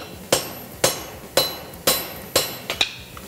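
Chainmail struck with a hammer on an anvil, five sharp metallic blows at an even pace with a lighter tap near the end, close and alone.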